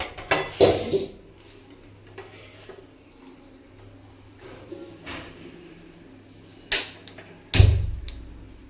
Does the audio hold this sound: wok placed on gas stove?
yes